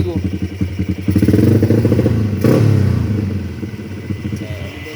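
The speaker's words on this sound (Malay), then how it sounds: "Motor dah hidup motor dah hidup." A rebuilt Modenas X1R two-stroke motorcycle engine running up close in a garage, with rhythmic pulsing revs, a louder blip midway and some clatter, while people talk nearby.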